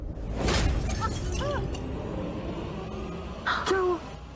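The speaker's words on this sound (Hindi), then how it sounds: "वो ग्लास गिर गया।" A drinking glass falls and shatters indoors in a single sharp crash, followed by faint scattered tinkles, with brief voices and background sound around it.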